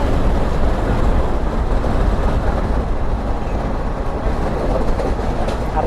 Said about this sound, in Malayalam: ട്രെയിൻ കണ്ടോ വളഞ്ഞു പോകുന്നത്